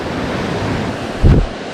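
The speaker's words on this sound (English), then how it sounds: "the waves are really big on the point" A big ocean wave breaking at a point in Central America, steady windy surf noise with one heavier, close crash near the end.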